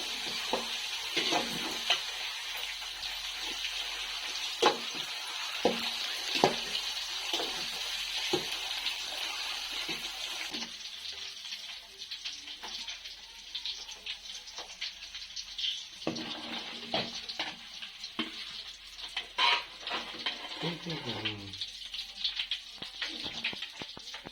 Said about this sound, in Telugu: అన్ని గుడ్లేసిన తర్వాత ఇది పైన కొద్దిగా పసుపు వేసుకున్నాము పైన ఎర్రగయ్యేట వరకు వేపేసుకుందామండి